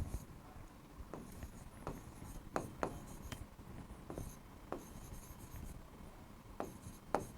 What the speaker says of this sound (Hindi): यहाँ पे हम लिख लेंगे